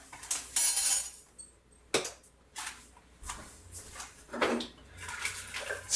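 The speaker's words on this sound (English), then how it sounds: "still sauteing, still heating, mixing everything up really well." Spicy black-eyed peas with dried parsley are stirred while sauteing in an Instant Pot, giving repeated scraping clinks and metallic taps of a utensil against the inner pot, in uneven bursts close up, with no talking.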